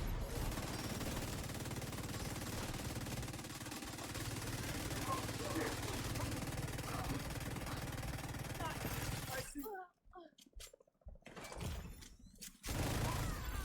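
Light machine gun in The Division 2 firing rapidly in a dense, continuous roar of gunfire, loud and sustained, briefly dropping out before resuming.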